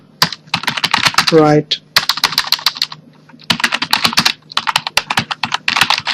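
Rapid clattering keystrokes on a computer keyboard while typing footer copyright text, in quick bursts separated by brief pauses, close up, with a short spoken word partway through.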